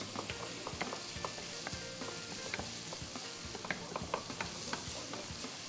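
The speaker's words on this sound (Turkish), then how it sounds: "soğanlarımızla beraber güzelce kavurmaya devam ediyoruz" Quiet, continuous sizzle of onions frying in olive oil in a pan, with frequent small pops and occasional scraping stirs.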